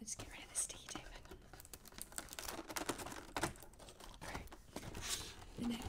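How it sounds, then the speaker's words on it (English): Sticky tape crackles and tears as it is peeled off a cardboard advent calendar, close and crisp, with rustling and crinkling throughout and no voices. "let's get rid of the sticky tape"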